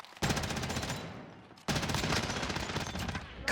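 Sustained automatic gunfire in a Call of Duty Warzone Gulag fight, two dense bursts of rapid shots separated by a brief pause, loud and close.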